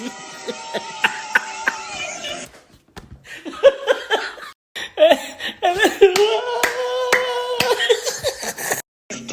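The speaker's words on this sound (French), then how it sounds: "Regardez Angel comme elle a applaudi." Hands clap in quick bursts during a reality TV debrief, mixed with laughter and overlapping chatter, fairly close and lively, with short pauses between rounds.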